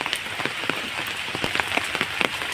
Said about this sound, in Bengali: প্রচুর জল জমে গেছে বৃষ্টিতে চারদিকে